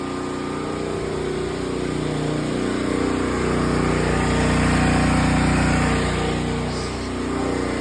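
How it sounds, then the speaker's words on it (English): A 12,000 watt gas generator engine runs with a steady, loud mechanical drone and hum, rising slightly midway, close by with no talking. "Start the generator up."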